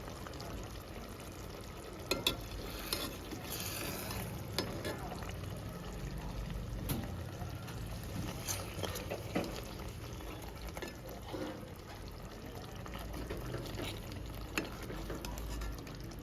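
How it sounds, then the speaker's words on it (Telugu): Fish gravy is gently stirred in a pan, with soft scraping and faint sizzling under a quiet, steady kitchen background. "ఇప్పుడు ఇవి తిప్పేసుకుందామండి, చిన్నగా తిప్పేసుకోవాలి."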